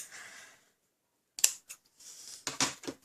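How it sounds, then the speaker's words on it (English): Scissors snip through a piece of ribbon in a few quick, close cuts, each a short crisp slice after a brief pause. "I'm going to cut a piece off."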